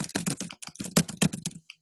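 Fingers type on a computer keyboard, a close, quick run of clicky key taps in bursts with brief gaps.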